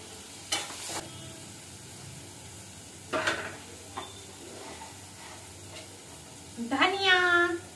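Masala with ground green chilies sizzles in a pan as a spoon stirs and scrapes it for paneer bhurji, intermittent scraping strokes over a soft continuous fry, close up.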